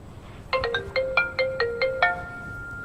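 A phone ringtone for an incoming call from Anil plays as a bright, repeating electronic melody of short tonal notes. It comes in clearly over a quiet background and sounds near, with no talking.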